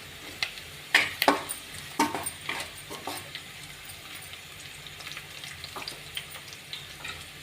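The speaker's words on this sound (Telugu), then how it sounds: "ఇందులోనే పచ్చిమిర్చి చీలికలు వేసుకుందాం." Slit green chillies sizzle and fry in hot oil in a pan for a mushroom masala curry, with crackling pops and occasional stirring clinks, louder at first and then settling to a steady low sizzle.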